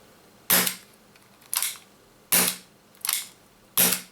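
A King Arms Python 357 gas airsoft revolver fires five sharp, loud shots at an uneven pace, each a crisp crack with a short decay, alone with no talking.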